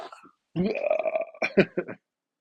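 A person voices a long, croaking imitation of a burp, rough and guttural, ending in a few short gurgling bursts.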